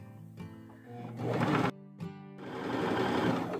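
A sewing machine stitches fabric in steady, whirring bursts of motor hum and needle chatter, close and fairly loud, stopping briefly before running on again.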